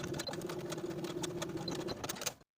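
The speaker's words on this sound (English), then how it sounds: "Take it to your sewing machine and edge stitch following the original stitching line to close the gap on both sides." A sewing machine runs a steady whirring hum while edge stitching a fabric skirt, close and continuous, then stops abruptly.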